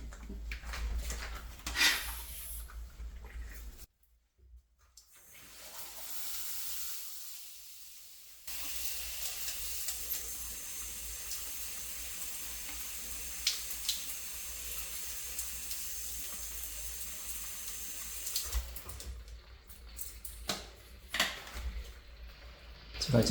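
A shower head sprays water onto cuttings of fig and grape in a container, giving a broad steady hiss that starts and stops with brief pauses. Faint speech is heard in places.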